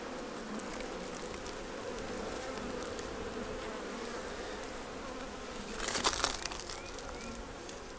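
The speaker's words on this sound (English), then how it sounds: "Look at those bees moving." A dense, steady hum of many honey bees buzzing up close on a hive frame, with a brief rustling crinkle partway through.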